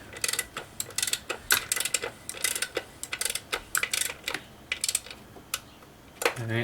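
A socket wrench with an E-Torx socket works a bolt on the valve cover of a BMW N54 engine, giving a quick run of sharp ratchet clicks in bursts, close and distinct, with no talk.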